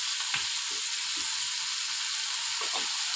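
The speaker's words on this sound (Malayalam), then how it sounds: "അപ്പം നല്ലപോലെ വഴറ്റുക" Vegetables for a Kerala-style thoran sauté in a hot pan, giving a steady soft sizzle with a few faint stirring scrapes.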